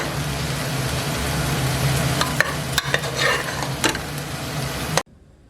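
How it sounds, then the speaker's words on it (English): Onions frying in ghee are stirred in a pan, a steady close sizzle broken by several sharp scrapes of the spoon. It cuts off abruptly near the end. "Keep stirring the onions. We are going to add another spoon of ghee."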